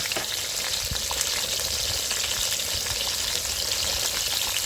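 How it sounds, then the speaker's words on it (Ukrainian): Thick sauce bubbling in a pot, with a constant crackling sizzle and scattered small pops, heard up close without voices. "Ну і томат у нас кипить."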